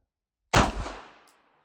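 A single sharp gunshot cracks loud and close, then its echo rolls away over about a second while a Garmin Xero C1 Pro chronograph measures the round.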